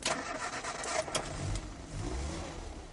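An experimental car fitted with a single joystick-type control column and high-performance saloon power steering pulls away, its mid-pitched engine revving steadily and close by, with broad road and mechanical noise throughout.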